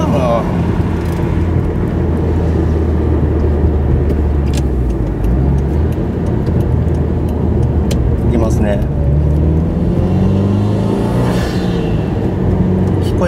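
Subaru Impreza engine with a BLITZ SUS Power air cleaner, its intake note droning steadily and loud throughout, rising and falling with revs as traffic passes, with faint talk underneath.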